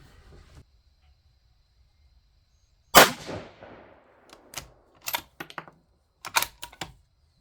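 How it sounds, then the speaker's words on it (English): A 6mm ARC rifle fires a single cold-bore shot with pulled Barnes 112 Match Burner rounds: one loud, close crack with a short decaying tail, followed by a few sharp mechanical clicks and clatters. No one speaks. "first shot here, which this is a cold bore shot with those rounds that we pulled."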